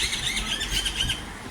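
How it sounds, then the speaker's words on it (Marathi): Crows, pigeons and other birds gather and chirp while being fed at an open ground on a morning walk, a dense, continuous chorus of overlapping high twitters over steady outdoor noise. "किलबिलाट करत गोळा होतात."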